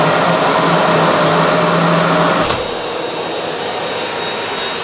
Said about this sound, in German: Gute Einhell-Akkuschraube. Mit 13 mm Bohrfutter.